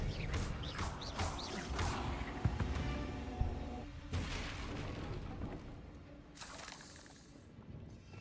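A Confringo fire spell explodes in Hogwarts Legacy, a burst of booming, crackling blasts with shattering debris over dense battle noise and rumbling background effects.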